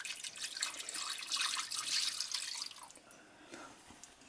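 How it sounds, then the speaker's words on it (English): Liquid marinade poured into the bottom of a baking dish over garlic for Cornish game hens, a soft, close splashing trickle that fades out into quiet drips. "And we pour into the bottom of the dish over the garlic."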